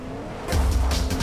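A car in the Fortnite video game, quiet at first, then a sudden loud surge of engine roar and tire squeal that holds to the end, with no voices.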